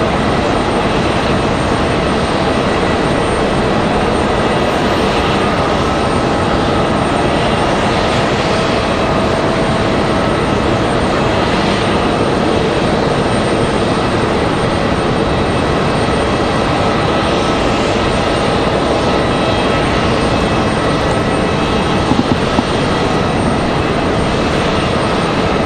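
A Bel Air aircraft from Aspen touches down at Raleigh-Durham airport, its engine roar loud, broad and close, holding steady and unbroken for the whole stretch with no voices.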